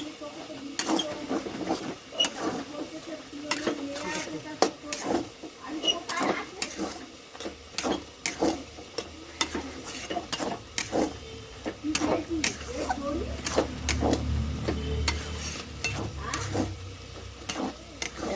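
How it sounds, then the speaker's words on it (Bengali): Boiled dal and vegetable stems fry in a pan, with a low continuous sizzle broken by frequent sharp spatula scrapes and clicks against the metal at an irregular, busy rhythm, close by. "এবার ভেজে নেবো।"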